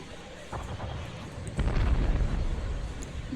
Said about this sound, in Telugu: వాళ్ళకైనా పేలుతుంది అది చూడండి.